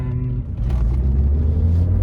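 A neglected BMW E36 M3 Evo under restoration drives with a deep, steady engine rumble and a low drone that rises slightly, heard up close from inside the car with no talking.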